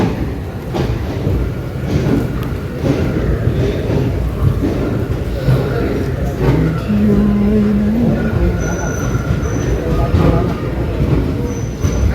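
A special train pulls out of Chiplun station in Konkan, giving a continuous rumbling roll with clattering and a short horn-like tone midway. Platform noise and distant voices sit under it.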